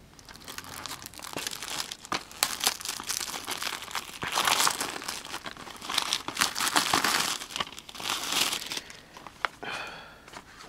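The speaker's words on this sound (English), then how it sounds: "So let's unbox this movie." Packaging for the Alvin and the Chipmunks Chipwrecked movie crinkles and tears continuously during unboxing, with close, busy rustling and crunching bursts throughout.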